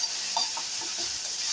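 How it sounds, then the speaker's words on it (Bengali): Ridge gourd frying in a pan while being stirred, giving a steady sizzle with a few soft scraping strokes, close and continuous with no voices. "ঝিঙেটা আমি ভালো করে ভেজে নিচ্ছি"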